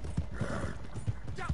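Horse hooves clip-clop in an uneven, fairly soft rhythm as a mount moves in the online Western game Red Dead Redemption Online, with a few separate hoof strikes over low background noise.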